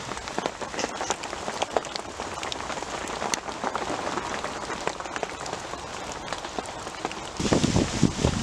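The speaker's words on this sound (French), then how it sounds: "La pluie a remplacé la neige à l'instant" Cold winter rain, just after snow, patters steadily on the ground and surfaces beside a carp-fishing spot, a dense even crackle of drops that grows louder near the end.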